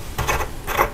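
Wrench turning a faucet part loose during a leaky faucet repair, giving two short mechanical ratcheting, grinding bursts close by with a brief pause between them.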